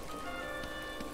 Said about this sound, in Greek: Μια βροχερή λοιπόν ημέρα στην Πόρτια εδώ με τον φίλο μας τον Τζίμι